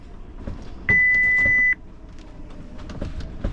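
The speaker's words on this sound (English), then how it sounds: "that alarm is my handheld radio telling me that it's low on battery" A handheld radio aboard a boat on a solo Tasman crossing sounds one steady, loud, high low-battery alarm tone lasting under a second, over quiet background noise.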